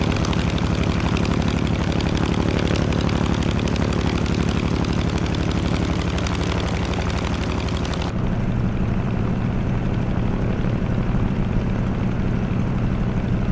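Radial piston engine of an F6F Hellcat in Microsoft Flight Simulator 2020, a steady loud idle while taxiing, with a droning propeller hum that drops to a lower, rougher rumble partway through; no talking.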